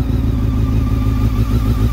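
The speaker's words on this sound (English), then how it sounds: "So this is the delkevic exhaust. It's the new type, xoval." A Honda CBR 600 F4 sport motorcycle fitted with a Delkevic Xoval exhaust idles close by, a loud, deep, even engine burble with steady pulsing and no talk.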